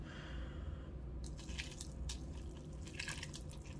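Milk trickles and splashes into a bowl of Pokémon cereal, a quiet, continuous liquid patter with soft drips and bubbling close by.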